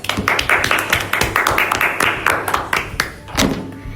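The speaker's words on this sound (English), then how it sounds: "let's give Vanya a round of applause." A small group claps at the close of a school podcast interview, sharp, fairly even hand claps repeating steadily for about four seconds over a low steady hum.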